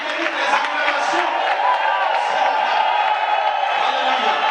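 A church congregation cheering and acclaiming during worship, a dense wash of voices with whoops and shouts, some clapping mixed in, loud and continuous from start to finish.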